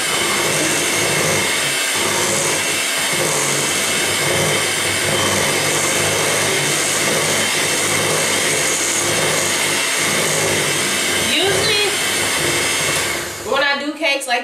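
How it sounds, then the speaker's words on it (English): A hand mixer runs through peach pound cake batter with a loud, continuous motor whir that fills most of the clip and then stops, followed by a brief voice. "I kind of had to do it with the hand mixer"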